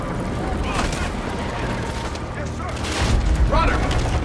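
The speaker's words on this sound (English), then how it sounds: "Open fire!" Gunfire in Call of Duty: Infinite Warfare, heavy booming shots and rattling bursts over a dense battle din, with a louder blast near the end and voices shouting in the mix.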